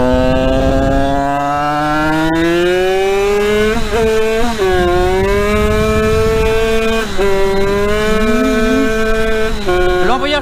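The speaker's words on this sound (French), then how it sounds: "L'embrayage patine." A modified prototype engine with raised compression and larger crankcase revs loudly and close, its pitch climbing and dipping repeatedly as the slipping clutch lets the revs flare without steady load.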